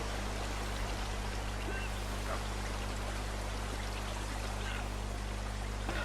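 Rushing water and a waterfall in the video game Uncharted, a dense, constant roar of pouring water with a steady low hum underneath.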